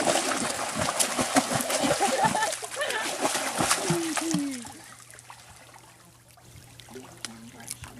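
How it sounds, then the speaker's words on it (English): Water splashes and sloshes nearby in irregular bursts to call fish while camping, then quiets to a softer trickle with a few faint chirps and a voice later. "Don't forget to splash the water so the fish know it's dinner time"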